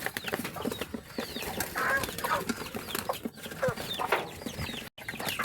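Birds being fed cluck and chatter close by, busy overlapping calls of a flock with occasional sharper squawks.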